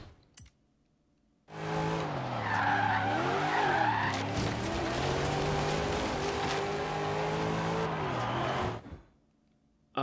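A car in Forza Horizon 3 spins out, its tires skidding and squealing in one long, loud, wavering screech over engine drone, cutting off abruptly after several seconds.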